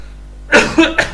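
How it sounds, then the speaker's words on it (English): A person coughs during a relaxed English conversation class, giving two or three short, loud, close coughs in quick succession after a brief silence. "I'm coughing."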